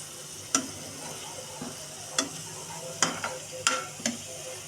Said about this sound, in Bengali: এখন আমি মাংসটা ভেজে নিচ্ছি আদা রসুন দিয়ে।